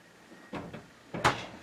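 A kitchen drawer on slides in a 2022 Forest River Grey Wolf Limited camper is pulled open with a short sliding rumble, then pushed shut, ending in a sharper close knock at moderate loudness.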